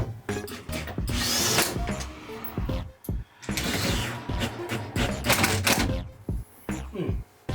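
Power tool, likely an electric drill or driver, tack-fastening wooden DIY parts before the bolts are fully tightened, running in several loud close bursts broken by short pauses, with clatter of parts handled between them.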